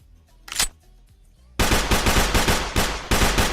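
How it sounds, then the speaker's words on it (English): Rapid automatic gunfire from the Roblox game Criminality: one short burst, a pause, then a loud sustained stream of shots with brief breaks, close and dominant with no talk. "And then you get shot and die."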